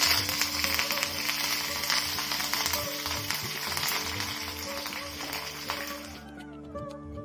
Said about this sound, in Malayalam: ഇനി നമുക്കിതിലേക്ക് കുറച്ച് കറിവേപ്പില കൂടി ചേർത്ത് കൊടുക്കാം.